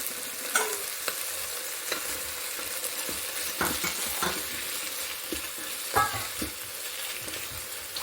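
Prawns go into a pan for prawn kuzhambu, cooked in an electric rice cooker, giving a continuous crackling fry broken by scraping stirs and small pops, with no talk.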